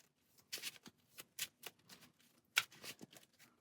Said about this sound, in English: And then for Ironheart, shuffling up, starting with 6 cards.